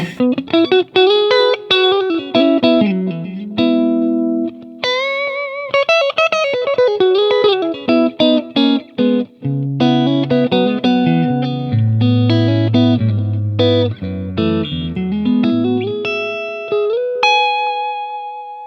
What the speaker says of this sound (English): I tend to like to add a little bit of delay to stuff, particularly on some clean tones